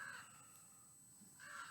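Crows cawing as they fight over a piece of bacon set outside, two harsh caws at the start and end with a quieter gap between, faint against a steady background hum.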